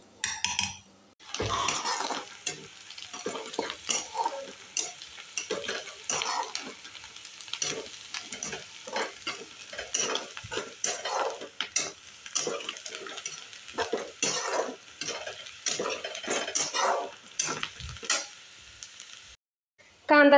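Onions frying in a pan until reddish, with a soft continuous sizzle under repeated scraping and stirring clicks of a spatula against the pan, fairly close and moderately quiet, with no talking.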